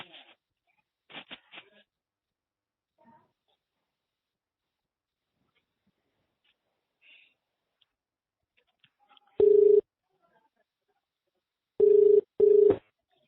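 Telephone tones during a call: scattered faint clicks and key presses, then a loud steady tone burst followed by two more tone pulses, ringback-like, with no speech.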